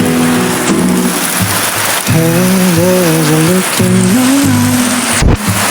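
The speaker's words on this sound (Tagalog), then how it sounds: "grabe yung ulan talaga guys" Loud, steady heavy rain hisses continuously on a flooded street while a low vehicle drone rises and falls through it.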